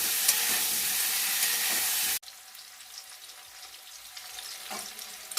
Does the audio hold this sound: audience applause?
no